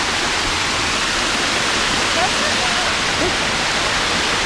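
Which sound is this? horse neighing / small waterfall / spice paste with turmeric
small waterfall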